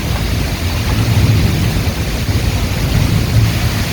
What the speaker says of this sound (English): Oh, I can hear the hail again.